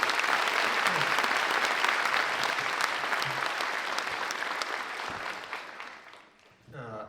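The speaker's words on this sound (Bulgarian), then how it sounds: "Аплодисменти за тях." Audience applause for a tenth-anniversary dance club concert at a music-drama theatre in Veliko Tarnovo, a dense, steady wash of many hands clapping that slowly fades out, then a brief voice at the end.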